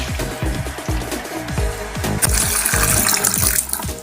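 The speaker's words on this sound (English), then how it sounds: "Fill it up with lukewarm water." Lukewarm water pours from a tap into a water flosser's reservoir, splashing and gurgling steadily, the flow brightening and hissing louder partway through; no talking.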